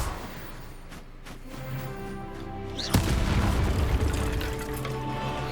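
A fire spell cast in the video game Hogwarts Legacy, a sudden loud boom about midway with a fiery burst that rolls on into a sustained crackling roar over game music.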